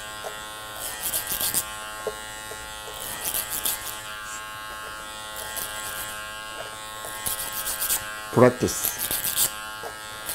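Electric hair clipper buzzes in short bursts while cutting hair over a comb, a close, fairly quiet hum with a few sharper snips, and a voice speaks briefly in the background.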